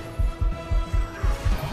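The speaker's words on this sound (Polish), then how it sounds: "Tu usłyszałem bicie serca." Heartbeat thumping in the VR game Asgard's Wrath 2, six deep, close throbs in an even rhythm of paired beats over a faint background hum.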